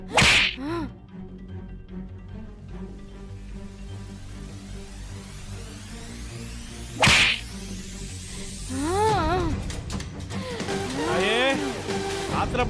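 Two loud, sharp whip cracks about seven seconds apart ring out over a dramatic musical score with swooping tones, heard in a Tamil television serial scene.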